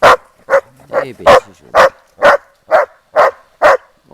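Belgian Shepherd dogs, Groenendaels, barking in a steady series of about ten sharp, loud, close barks at an even rhythm outdoors by Schwarzsee, with a short spoken remark between barks.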